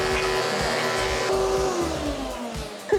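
A 1993 Flowbee home haircutting system runs attached to a vacuum, giving a loud, steady motor whine and rushing airflow that dips slightly in pitch partway through.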